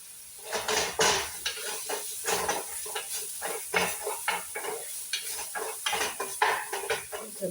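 Tomatoes tipped into a hot cooking pot, giving a sustained sizzle with repeated scraping stirs and clinks of a spoon against the pot, close and busy throughout.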